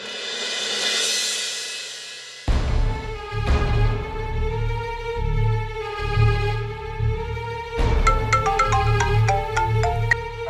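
A mobile phone's melodic ringtone plays while an outgoing call connects in a household drama scene, a clear repeating tune of bright tones over a low pulsing backdrop with no talking.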